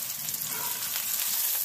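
Hot dogs sizzle and fry steadily in a skillet on an old wood-burning cook stove, a dense continuous crackle close up with no pauses.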